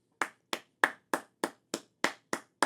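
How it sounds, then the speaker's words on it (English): Nine slow, evenly spaced hand claps from a single person, crisp and close. "If no one else will clap, I'll clap."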